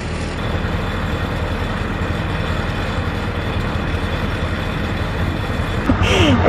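An engine that drives a sprinkler water pump on a country property runs loud and steady with a constant rumble, then a brief higher-pitched sound breaks in near the end.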